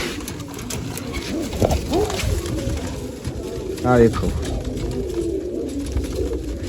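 Large pet pigeons coo softly nearby, a few low, throaty rolling calls, one clearer burst partway through, under a man's speech and light background noise.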